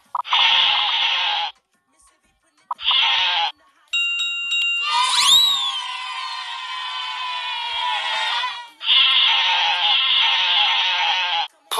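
Sheep bleating in a video game: several loud, close bleats in separated bursts, with a chiming tone and a long rising electronic sweep in the middle.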